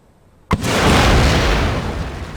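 A single artillery shot in the Empire: Total War strategy game strikes a tree, bursting with a sharp loud boom and then holding as a broad, rumbling roar that fades slowly.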